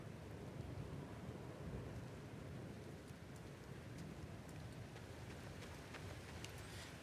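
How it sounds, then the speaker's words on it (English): A waterfall gushing out from under ice in Star Wars Jedi: Fallen Order makes a steady, dense rushing roar, fairly faint and unbroken throughout, with no voices. "What a wild waterfall that is."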